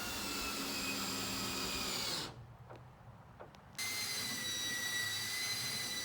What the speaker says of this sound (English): I used a belt sander to fair out the edges of the plywood in the same plane with the edges of that cleat